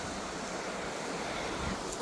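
Water rushes steadily at an old mill, a dense, unbroken roar close by with a faint touch of wind, no voices heard.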